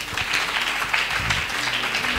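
Brief audience applause at a religious gathering acclaiming Jesus: a dense patter of clapping from a crowd, lasting about two seconds, with a voice faintly underneath.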